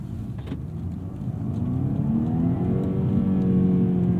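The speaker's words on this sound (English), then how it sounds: "the engine surprises you because this is a 4-cylinder turbocharged BMW, not a 6-cylinder like you might expect, and the sound is quite different" A 2018 BMW 230i's turbocharged four-cylinder engine revs up under acceleration, its steady rising drone growing louder and closer over a few seconds, heard from inside the car with no talking.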